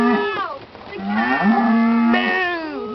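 Cattle lowing at an Alton Towers animal area, several drawn-out moos in succession, loud and close, with no speech over them.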